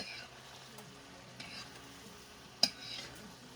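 Shredded cabbage softening in a hot pan makes a soft, steady sizzle and frying hiss, with occasional stirring scrapes and one sharp utensil clink against the pan, close and fairly quiet.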